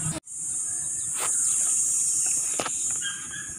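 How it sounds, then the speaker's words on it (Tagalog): Steady high-pitched insect trilling of crickets, continuous and fairly loud throughout, with a couple of brief faint knocks in the background. "Maririnig yung mga kuliglig. Kuliglig yun doon, diba?"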